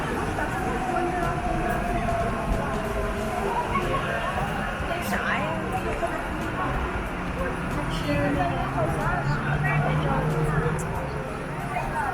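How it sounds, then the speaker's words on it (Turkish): A metro train rumbles and hums on a station platform in Chongqing, China, with a rising whine and squeal as it arrives, under a steady murmur of talk. "Bakın tren geldi arkadaşlar. Metro geldi."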